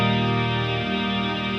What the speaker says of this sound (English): if I was to click hold while that's ringing, it's going to continue to sustain that reverb.